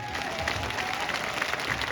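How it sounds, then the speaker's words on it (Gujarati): Crowd applauding at a political rally, a brief stretch of steady, moderately loud clapping from many hands, with a faint crowd murmur beneath. "એકવાર જોરદાર તાળીઓ મારા માનમાં પાડો"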